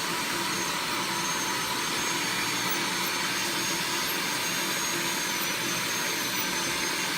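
A shop vac serving as a nail tech's dust extractor sucks up nail dust with a loud, constant whooshing roar that stays steady for over seven seconds, with no talk.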